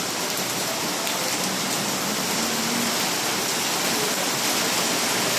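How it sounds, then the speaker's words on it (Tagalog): Heavy rain pours down steadily in Caloocan, a dense, continuous hiss of water hitting surfaces close by, with no voices. "Ang lakas ng ulan dito."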